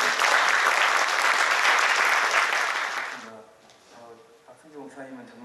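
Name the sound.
congregation applauding in church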